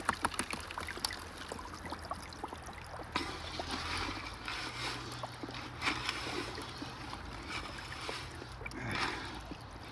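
Water rushing and gurgling through a gold sluice box outdoors in Oregon in winter, a steady close wash with splashy surges and small knocks as it hits clay, no talk.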